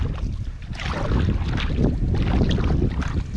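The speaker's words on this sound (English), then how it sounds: "Oh, this wind definitely is stronger than I was expecting." Strong wind blusters steadily while paddleboarding on the River Wye, a dense, continuous roar with gusting swells and no talk over it.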